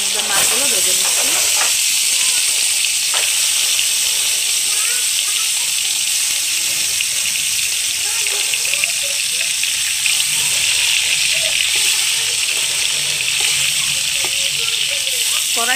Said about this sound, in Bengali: কড়াই তেলটা বেশ গরম হয়ে গেছে, তার মধ্যে মাছগুলো ভেজে নিচ্ছি।